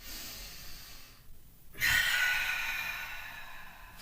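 A single long, audible exhale during a yoga session, a soft breathy rush that swells after a short pause and fades slowly, close and with no talking.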